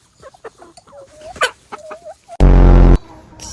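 Chickens cluck in a string of short, bright calls and squawks, fairly close, followed by a burst of loud broadband noise near the end.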